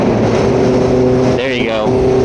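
A Honda CBR650R sport motorcycle engine idles steadily, then gives one sharp rev that rises in pitch and drops back to idle, loud and close.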